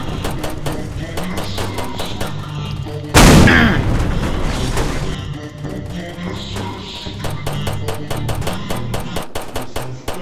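Gunfire in a Skibidi Toilet video game: a sharp, loud blast followed by a rapid string of repeated shots and booms, with game sounds running through it.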